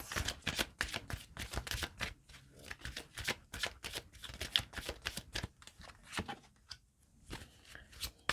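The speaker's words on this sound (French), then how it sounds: "On va remettre quelques cartes." Tarot cards are shuffled close up in a long run of quick, papery riffling bursts, with short pauses between bursts and no talking.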